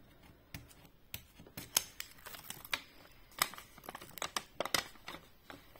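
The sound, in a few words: scissors cutting a strip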